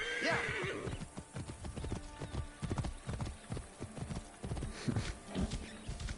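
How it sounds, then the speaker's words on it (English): Horse hooves clip-clop at a gallop in the Assassin's Creed Origins desert, with a whinny near the start; the hoofbeats are close, steady and loud over a game soundscape, with no voices. "Horsey."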